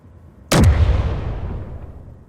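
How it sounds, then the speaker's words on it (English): A gun fires in Space Engineers, followed by a distant explosion: one sharp loud crack that rolls into a long, fading rumble, with no voices. "Explosion way the heck out there."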